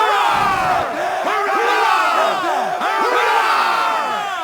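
Sailors aboard the ship Aquila in Assassin's Creed III raise a loud, rousing crowd cheer. The shouts rise in waves of whoops and battle cries, sustained close up over several seconds.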